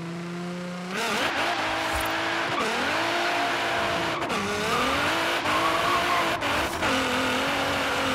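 A 1000HP GTR-powered 1990 Renault Alpine GTA drag car in Forza Horizon 3 screams through the gears, loud and continuous, with the engine pitch climbing and dropping at each shift and tire squeal mixed in.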